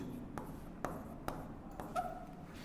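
Chalk or marker writing on a classroom board, a few sharp taps and short scratchy strokes spaced about half a second apart, fairly quiet and close, with no voices.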